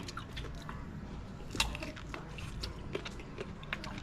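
Crisp bites and chewing on a crunchy freshly harvested apple mango, with scattered sharp crunches over a steady low background rumble outdoors.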